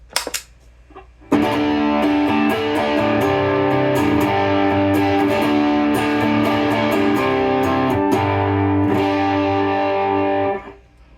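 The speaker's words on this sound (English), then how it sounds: "And the Tumnus sounds like this." An electric guitar runs through a Tumnus Klon-style overdrive pedal, starting after a short quiet lead-in with loud, crunchy strummed chords and brief accents that hold steady for about nine seconds before stopping abruptly.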